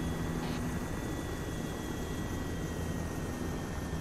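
Continuous rotor and turbine drone of an MH-6 Little Bird helicopter in the Arma 3 game, a steady loud roar with no breaks.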